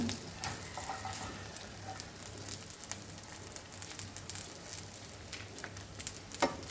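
Banana fritters shallow frying in oil in a pan, a steady soft sizzle with light crackling pops, quiet and close, running continuously with no talk.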